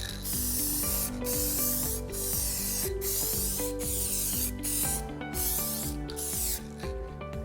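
Automotive touch-up paint sprays from a can in repeated close, loud hissing bursts, each a second or so long with short breaks between, applied as a second coat over a car scratch repair.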